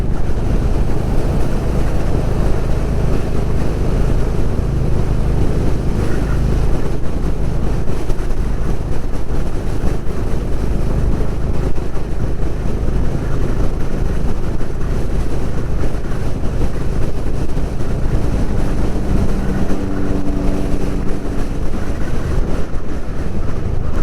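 Loud, continuous wind roar buffets the microphone while riding a Honda CB350 motorcycle on a busy highway, a dense rushing noise that never lets up, with faint engine hum underneath.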